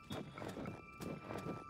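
Hooves of a horse being ridden in Zelda: Tears of the Kingdom, clip-clopping in a steady walking rhythm of several distinct strikes, fairly soft and close, with a faint tonal hum behind.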